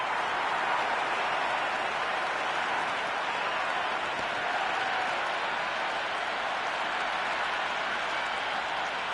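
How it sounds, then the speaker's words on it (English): Steady stadium crowd in Cricket 26, a dense wall of cheering and roar that holds at an even, loud level throughout without breaks. "It's evident and ever so audible that the crowd is at near bursting point at today's play."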